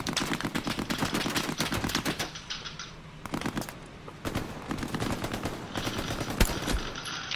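Rapid bursts of MG machine gun fire in the World War II shooter Hell Let Loose, loud and close, rattling in repeated volleys with brief pauses and a sharp single crack near the end.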